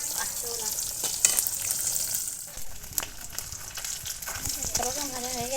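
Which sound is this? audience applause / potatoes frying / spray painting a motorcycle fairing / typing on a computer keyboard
potatoes frying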